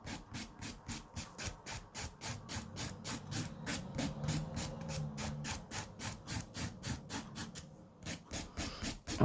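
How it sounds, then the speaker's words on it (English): A hand nail file rasps back and forth across an acrylic nail in quick, even strokes, a close, soft scratching rhythm that continues steadily with a brief pause near the end. "what I'm doing is I'm filing down to where my smile line should be"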